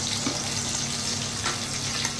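Onions and garlic sauté in a pan with ginger for ginataang kalabasa, giving a steady, close sizzle and hiss throughout with no break.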